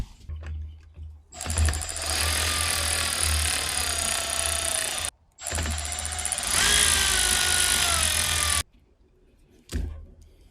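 A powered socket tool loosens the turn signal bolts on a 2024 Beta 390 RR-S motorcycle, giving two long, loud, steady whirring runs of several seconds each, separated by a brief stop, then one short final burst, close up.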